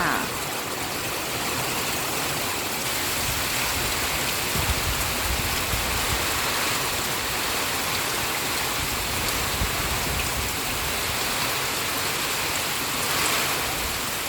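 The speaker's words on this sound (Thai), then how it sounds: "ทั้งลมทั้งฝนนะจ๊ะ" Heavy rain pours down steadily with gusts of wind, a loud continuous roar of water that stays constant throughout.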